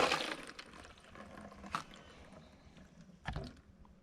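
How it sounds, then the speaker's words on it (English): Water is dumped out of a Mr. Funnel fuel filter funnel, giving faint pouring and splashing with a few brief louder splashes and sloshes, quiet and close. "Go ahead and dump the water out of the Mr. Funnel."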